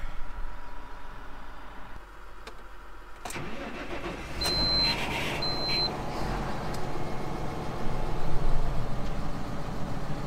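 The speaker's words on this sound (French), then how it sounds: "je vais faire chauffer un peu le tracteur" A tractor engine warms up and settles into a steady idle, a continuous mid-pitched rumble with a sharp start and a couple of faint beeps, heard alone without talk.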